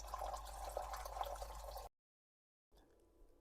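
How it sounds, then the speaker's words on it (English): Water poured into a pot of artichokes, a steady trickling splash for a couple of seconds that cuts off abruptly, followed by quieter faint dribbles. "Next, I'm going to add an inch of water to the pot, being careful not to pour the water directly on top of the artichokes."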